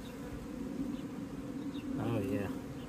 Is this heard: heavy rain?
no